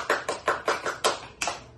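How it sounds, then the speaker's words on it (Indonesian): Sparse hand clapping at a community health-post cadre training session: about eight sharp, close claps in an uneven, unhurried rhythm, fairly quiet and with no talking, more like one or two people clapping than full applause. "Boleh kita apresiasi, tepuk tangan yuk."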